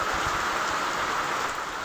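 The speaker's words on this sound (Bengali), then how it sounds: "এই বৃষ্টি নেমে গেল, বৃষ্টিতে বাড়ি যাওয়ার সমস্যা।" Rain pours down steadily, a dense, even hiss of falling water that stays loud and unbroken throughout, with no voices.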